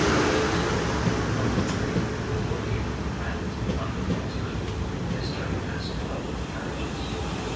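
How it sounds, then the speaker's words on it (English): A South Western Railway passenger train, the Portsmouth Harbour to London Waterloo service, arriving at Eastleigh station on the South Western Main Line, with a loud, steady rumble and roar that fills the whole clip and does not let up. "Here comes the 1547 Southwestern Railway service from Portsmouth Harbour to London Waterloo."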